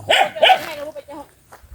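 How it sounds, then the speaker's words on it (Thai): A dog barks twice in quick succession at a rural farm where buffalo and cattle are kept loose, followed by a few softer yips, fairly close and loud, with someone talking nearby. "เห่าค่ะ เพื่อนเห่าค่ะ"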